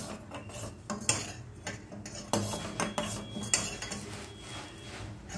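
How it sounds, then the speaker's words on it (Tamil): Masala tea with ginger and sugar is stirred in a pot, a spoon scraping and clinking against the metal in irregular strokes over a steady low simmer, close and moderately quiet with no talk. "இப்போ நல்லா மிக்ஸ் பண்ணிகிட்ருக்கோம்."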